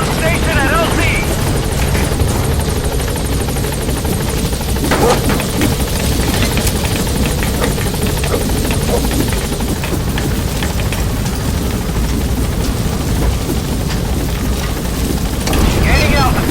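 Pequod, a helicopter in Metal Gear Solid V: The Phantom Pain, arriving at a landing zone: a loud, steady rotor and engine roar fills the whole stretch, with a voice talking over it.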